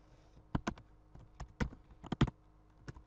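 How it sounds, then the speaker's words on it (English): Scattered keystrokes on a computer keyboard, about a dozen sharp clicks in uneven bursts, close and fairly quiet, alone without speech. "We type in hello."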